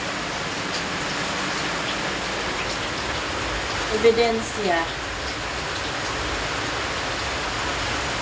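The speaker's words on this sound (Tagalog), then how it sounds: "Naulan dito guys. Naririnig nyo?" Rain patters steadily as broadband hiss, heard from inside a kitchen, with a brief voice speaking over it midway.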